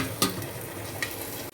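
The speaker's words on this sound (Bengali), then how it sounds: "অল্প তেলে ঢাকা দিয়ে দিয়ে ভাজছি।" Fish frying in a little oil in a covered pan, a steady low sizzle with two brief louder crackles early and midway, close and alone without talk.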